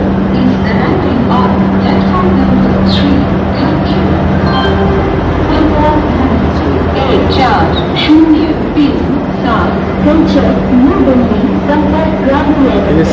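A Vande Bharat train on the NJP to Howrah route stands at a station platform, its steady low electrical hum running beneath busy platform noise and faint voices.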